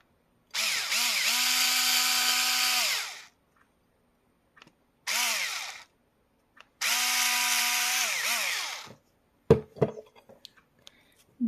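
Power drill boring holes into a plastic dinosaur egg toy, three sustained whining bursts of a few seconds each with pauses between, followed by scattered clicks and knocks, close and loud with no talking.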